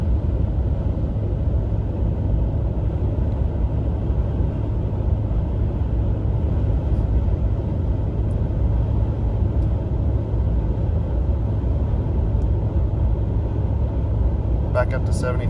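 A 2020 Ram 1500 Limited EcoDiesel pickup cruises at highway speed into the wind, heard from inside the cab as a steady, loud low rumble of road and engine noise while someone talks throughout.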